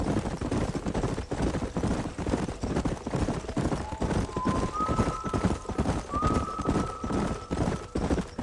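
Many hooves pound in a fast, dense galloping rhythm in Red Dead Redemption, with a horse's whinny rising faintly above the thundering herd.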